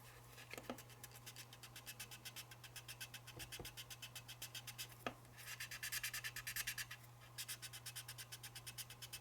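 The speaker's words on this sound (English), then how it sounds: "And finish it off with some sanding." Gentle hand sanding on the nose of a model F3 locomotive, a quiet rhythmic rasping scratch in repeated strokes, briefly louder and faster toward the end, with a few small clicks.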